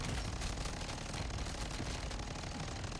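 Modern Warfare 2 pistols firing in MW3 Zombies, a dense, continuous stream of loud gunfire layered over game sound effects, with no pauses across the stretch.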